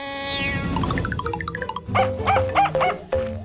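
A toy puppy yaps in several short electronic barks after a descending chime-like jingle, close and clear, with no talking.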